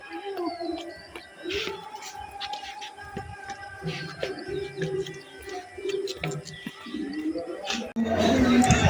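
Pigeons coo softly at a hilltop temple amid scattered bird chirps, and a sudden loud rush of noise cuts in at the very end.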